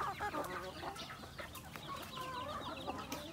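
Naturally raised farm chickens, with breeders kept in sunlight, cluck and chatter constantly in a dense, busy chorus, moderately distant and steady throughout.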